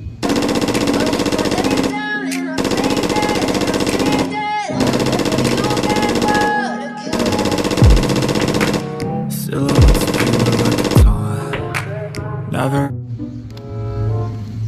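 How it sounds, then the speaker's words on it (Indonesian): Rapid bursts of toy M4 rifle gunfire, loud and electronic, repeating in long stretches separated by brief pauses, with a few short gaps of quieter noise near the end. "Wow tembakan laras panjang Yang ini namanya M4"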